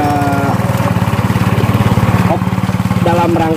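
A government-supplied farm machine engine runs steadily and close up at a pulsing idle-like chug, with a few faint tonal squeaks over it and no voices.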